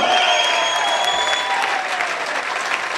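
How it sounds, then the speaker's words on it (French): A table tennis crowd applauds after a match: dense, steady clapping at full level throughout, with a faint high tone and a murmur of voices underneath. "On applaudit bien fort."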